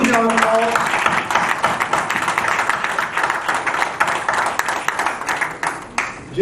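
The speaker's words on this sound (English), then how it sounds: "Huge round of applause." A round of applause at a weekly business meeting, many hands clapping in a steady, fairly loud patter that keeps going, with short dips near the end.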